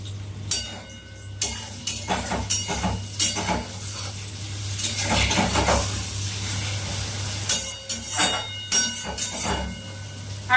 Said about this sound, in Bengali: একটুখানি নুন আর হলুদ দিয়ে দিচ্ছি দিয়ে ডিমটাকে ভেজে নেবো